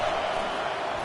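Stadium crowd roaring at a Michigan vs Ohio State football game as the defense faces a red zone stand, a dense, steady wall of cheering throughout the second.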